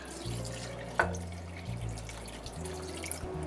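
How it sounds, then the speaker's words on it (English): Water poured from a 4-cup measure into a crock pot of oxtail, a steady trickling pour with a brief splash near the start, alongside a low humming background tone. "Yeah, about 2 cups of water I've added here."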